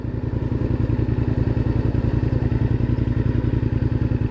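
A motorcycle engine runs steadily under riding load, a dense rapid low pulsing throb with faint clatter, close and loud throughout with no talking.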